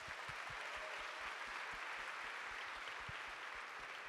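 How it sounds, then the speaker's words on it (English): An audience at an awards speech event claps together in a faint, even wash of applause that holds steady throughout, heard from a distance with no talking. "They deserve a round of applause as well."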